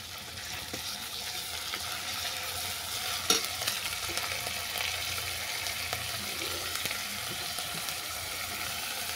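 Garlic, ginger paste and onion paste fry in a pan while being stirred, giving a steady, close sizzle with scraping strokes and a few louder clinks, with no talking.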